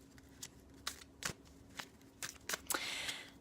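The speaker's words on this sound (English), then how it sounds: "I'm shuffling tarot cards because I'm going to get a live reading" Tarot cards are shuffled in quiet, crisp bursts of riffling and flicking, about eight short rustles with a longer riffle at the end, close and soft with no talking.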